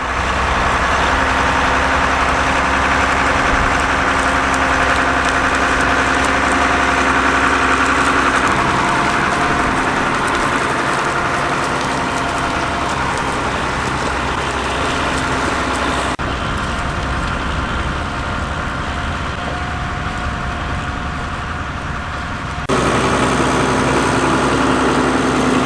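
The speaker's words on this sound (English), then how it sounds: "A Roadless 120, built from 1971 to 1981. They only built 51 of these, so this is now a very rare tractor." A rare Roadless 120 tractor, built 1971 to 1981, idles steadily and loudly at a classic working event, a deep continuous engine rumble that shifts in tone partway through, with no talk.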